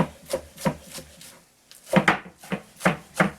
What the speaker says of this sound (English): I'm going to run a knife down through them so we don't get too big of a piece.